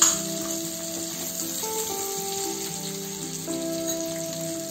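Medium potato cubes drop into hot oil in a pan with spices for a samak rice fasting pulao, giving a steady close sizzle and frying hiss that runs evenly throughout while background music plays.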